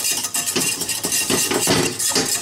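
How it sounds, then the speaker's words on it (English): A whisk scrapes rhythmically through white sauce of flour cooked in a pan over low heat, giving a steady run of close, busy metallic scratching strokes with no talking. "I'll just keep whisking it"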